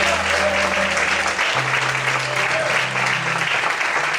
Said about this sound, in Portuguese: Todos podem aplaudir e exaltar o Senhor.